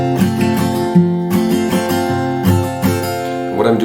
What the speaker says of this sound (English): So for the original studio version, we're going to do an alternating bass.